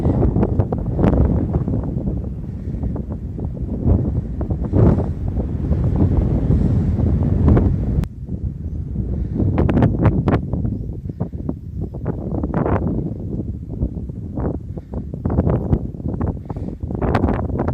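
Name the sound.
strong wind blowing over rocks, wind on microphone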